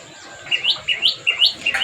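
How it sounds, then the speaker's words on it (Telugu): Loud, close bird chirps repeat in quick bursts of two or three notes, with short gaps between each burst against quiet background. "పిట్టలు చూడండి ఎలా మొత్తుకుంటున్నాయో"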